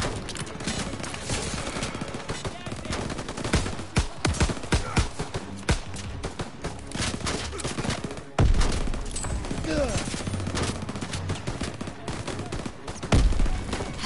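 Dense, continuous gunfire from a Call of Duty WWII battle in the Operation Cobra mission, with bursts and volleys filling the whole stretch, loud and close, while a player speaks over it.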